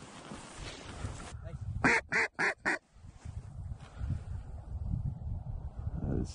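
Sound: ducks quacking

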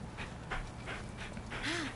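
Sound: dog panting in a video game

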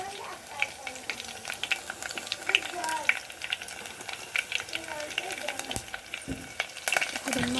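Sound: curry leaves and green chillies frying in hot oil

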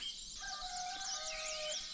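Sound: rooster crowing

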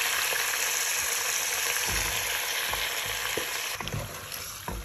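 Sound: baby octopus frying in pan with garlic, chili, anchovies

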